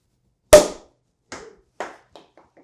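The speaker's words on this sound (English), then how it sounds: "let's pop the champagne." A champagne bottle's cork pops with one sharp, loud crack, followed by a few fainter taps and clinks trailing off in a quiet kitchen.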